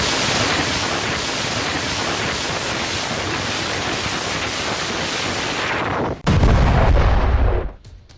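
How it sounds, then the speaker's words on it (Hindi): Russian MLRS rocket and artillery fire hitting a Ukrainian village in Zaporizhzhia, heard as a steady, heavy roaring rumble that breaks into a louder, close, booming blast near the end before fading. "ज़ेपोरिज़िया में यूक्रेनी गांव पर रूसी हमला, जहां रूस ने एमएलआरएस से रॉकेट बरसाए।"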